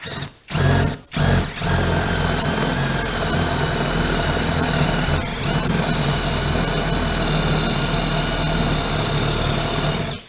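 A power drill bores a row of holes in wood with a resharpened bit, running loud and steady close by after a few short starting bursts.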